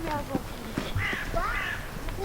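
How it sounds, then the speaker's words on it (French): Crows caw in a forest, a few harsh calls around the middle of the stretch, carried over steady background noise and low rustling movement. "Il y a des corbeaux."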